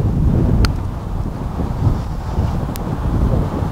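Steady wind buffeting the microphone on a golf course at Whitefield Golf Club near Manchester, a continuous low rumbling roar with a couple of brief sharper gusts, no talking.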